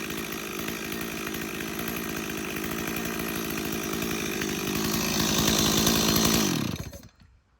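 Chainsaw on half choke after a cold start, running with a rough, buzzing idle that rises to a louder rev before the engine cuts out abruptly into silence.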